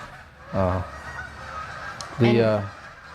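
Ducks flying low over a house in Illinois give two loud, harsh honking calls, one short and one longer, with quiet outdoor air between them.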